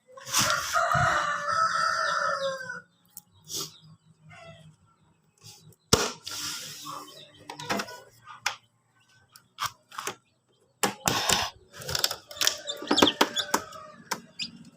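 Chickens on a backyard chicken farm, with a rooster crowing loudly up close and clucking mixed with high chirps from newly hatched chicks, coming in bursts separated by short quiet gaps and a few knocks.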